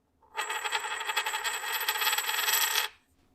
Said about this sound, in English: We sometimes call it a ringtone test